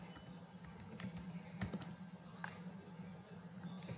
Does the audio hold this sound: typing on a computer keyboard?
yes